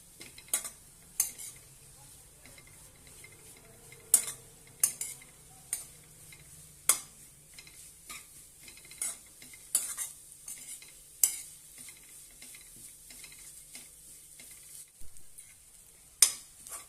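Grated red pumpkin is sautéed and stirred in a pan, with a spoon repeatedly scraping and clinking against the metal over a low, steady sizzle, with no talking.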